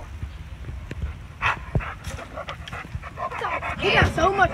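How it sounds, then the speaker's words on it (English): Dogs panting and snuffling close by, with short whimpers and yips, while people talk over them throughout. "And there's another dog."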